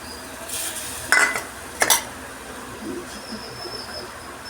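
Pieces of kili fish drop into a pot of boiling curry paste for a sour Kerala fish curry, giving two sharp clinks and splashes close by over a faint background hiss.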